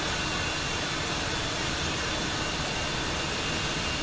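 Airbus A220 jet engine spooling up in the Infinite Flight simulator, a steady loud broadband roar with a high whine, continuous and without speech.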